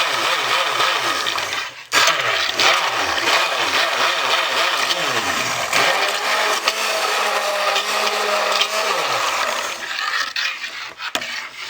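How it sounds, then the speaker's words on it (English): A handheld stick blender whirs through soap batter in bursts, its motor pitch repeatedly rising and falling, then holds a steadier drone before cutting out near the end. "We'll get our stick blender in and get that under the head of the stick blender and get some air out of it"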